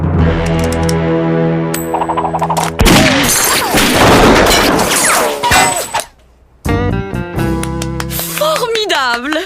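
Cartoon gunfire from Lucky Luke, the Wild West's best marksman, bursting out as a loud run of cracks and crashes through the middle of a busy passage, with music and voices around it and a brief silent gap near the end.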